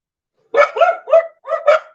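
A dog barking indoors, five quick close barks in a rapid burst, loud and alone.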